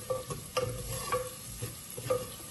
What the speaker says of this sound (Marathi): आमी कुंड्यान कोडी करता, मातशें आमकां पेशंटली आमी हें स्टर करूया.